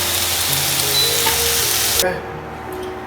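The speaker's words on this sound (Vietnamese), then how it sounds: "mình đặt cái bánh này xuống để cho nó chín cái nền dưới để nó giòn" Pizza dough base frying in a lightly oiled nonstick pan, a loud, close, steady sizzle that abruptly drops away about two-thirds through, leaving a quieter, dimmer crackle.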